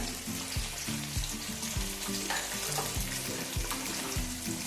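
Onions and tomatoes fry in oil in a pan for Mangalore-style chicken pulimunchi, giving a steady, close sizzle with a dense bright hiss throughout and repeated low thuds, like a spoon stirring or tapping, at roughly even intervals.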